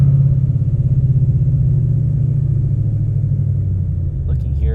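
Ford Gen 1 Coyote V8 running close by at a steady, deep idle after a throttle blip, a low rhythmic rumble that stays even throughout with a faint brief clatter near the end.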